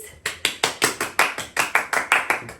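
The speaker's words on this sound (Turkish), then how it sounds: "Bu alkışta neyse artık." Rhythmic clapping at the opening of a Turkish talk show, about a dozen sharp, evenly spaced claps in a steady beat, loud and close with no voices over them.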